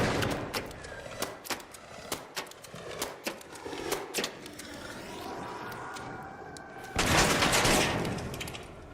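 Gunfire in the ARC Raiders video game as a player shoots the thrusters off an enemy: a rapid, uneven string of sharp shots over about seven seconds, then a louder burst of rushing noise near the end.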